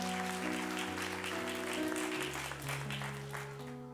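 Congregation clapping during a church service, steady applause layered over sustained keyboard or organ chords that shift pitch throughout.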